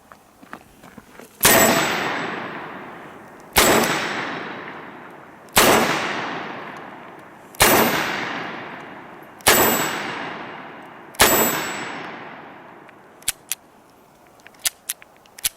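A Dan Wesson 715 revolver firing Hornady Critical Defense 110 grain .38 Special +P rounds: six loud, sharp shots spaced about two seconds apart, each with a ringing decay, followed by a few faint clicks.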